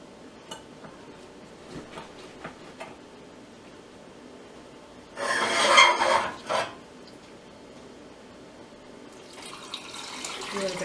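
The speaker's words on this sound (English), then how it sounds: "And then now I'm going to add the brine." Brine poured into a jar packed with eggs and jalapenos, a short splashing burst of liquid lasting about a second and a half between quieter handling noises, with a later run of pouring.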